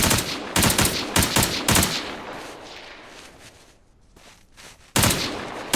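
Bursts of gunfire from a multiplayer shooter game: several rapid volleys in the first two seconds, a quieter stretch, then another loud burst near the end, with no voices over it.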